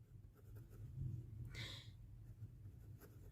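Pen writing on paper during a Class 7 math lesson on sales tax: faint scratchy strokes and taps over a steady low hum, with a brief breathy rush midway and no speech.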